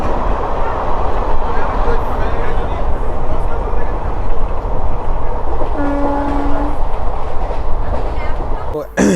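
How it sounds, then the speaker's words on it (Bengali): The 16116 Puducherry Express rolls into Tambaram junction station with a loud, continuous rumble of wheels and carriages, and a brief horn tone sounding partway through. "এখন ট্রেন এসে পৌঁছলো তাম্বারামে।"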